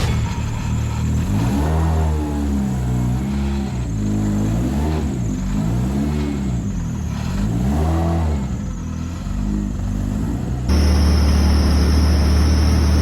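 A tuned Vauxhall Astra VXR van's engine, over 800 horsepower, revs repeatedly on a dyno in rising and falling surges, loud and close, then settles into a steady heavy drone at the end.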